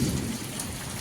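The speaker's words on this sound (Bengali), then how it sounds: "এই যে চাল থেকে জল অনবরত গড়িয়েই পড়ছে, আর বাড়ির সামনেই জল দাঁড়িয়ে গেছে" Heavy rain pours down during a thunderstorm, with water running steadily off a house roof. A dense, continuous wash of rain noise sits over a low rumble, close and steady throughout, with no voices.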